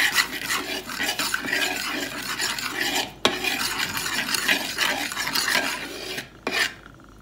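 Potato wedges being tossed with spices and olive oil by hand or spoon, a steady close rasping and rubbing of coated wedges against a bowl, continuous for several seconds with brief pauses, no talking.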